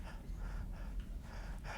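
A voice imitates a dog's short panting breaths, a rapid run of breathy, gasping puffs spread across nearly two seconds, close and fairly soft with no words spoken.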